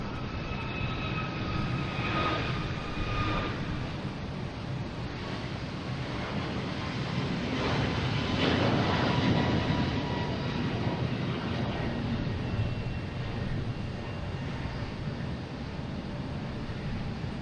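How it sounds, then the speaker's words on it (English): Air Portugal airliner taking off at Boston Logan Airport, a steady distant jet engine roar building slightly toward the middle, with wind noise over the microphone. "We got Air Portugal taking off, being paired with this Delta, heading to Lisbon."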